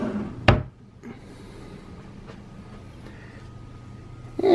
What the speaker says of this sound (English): down here we have a chest of drawers. Pretty good sized drawers.